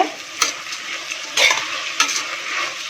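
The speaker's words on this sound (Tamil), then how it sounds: "இந்த ரைஸும் சேர்ந்து நல்லா மிக்ஸ் பண்ணி விட்டுருங்க." Soaked, drained basmati rice and spices are stirred in a hot pan, scraping strokes at irregular intervals over a light sizzle.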